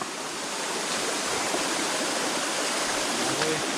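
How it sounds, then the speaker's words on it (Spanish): Steady rushing water of a waterfall inside a cave, a continuous broadband roar with no breaks, fairly close and loud, filling the space alone with no talk over it. "Pues sigue la cascada."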